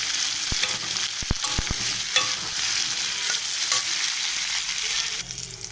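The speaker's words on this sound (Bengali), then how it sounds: "এরপর আমি ফুলকপি লাল লাল করে ভাজবো।" Cauliflower pieces fry in a pan, browning to a reddish colour, with a close, constant sizzle and several quick spatula taps and scrapes early on, the sizzle easing slightly near the end.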